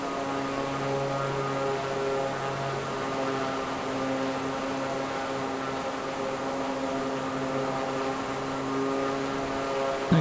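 Propeller engine of a Draco X aircraft in Microsoft Flight Simulator 2024, a steady loud drone with layered harmonic tones holding throughout, throttle being eased back, with no voices.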